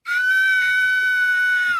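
A voice lets out a drawn-out, high-pitched cartoon-style scream, imitating the comedic shriek of a panicked character; one loud sustained cry holds steady for nearly two seconds with no other speech.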